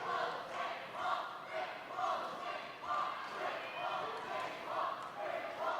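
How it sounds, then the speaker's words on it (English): Roller derby crowd at a Minnesota RollerGirls All-Stars bout chanting in rhythmic swells, a steady mass of voices rising and falling in regular waves throughout, with arena echo. "the Minnesota crowd is chanting for the Great Wall of St. Paul"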